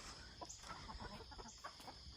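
Hens in a mobile chicken coop cluck softly and repeatedly at close range, short muttering calls scattered over a steady background hiss.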